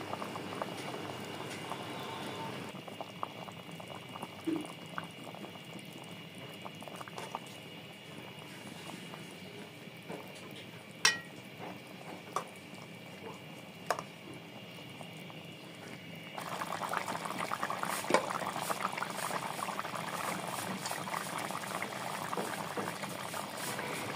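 Water boiling in a pot with tomato and fried katla fish: a continuous soft bubbling with occasional clicks, growing denser and louder toward the end.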